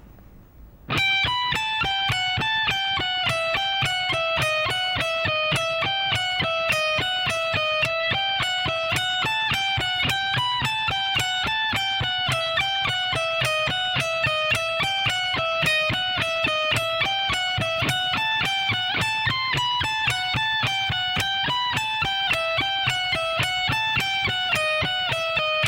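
Fast, continuous electric guitar speed-soloing lick played at a slow practice tempo, with dense evenly picked notes and distortion, loud and steady for the whole stretch with no talking.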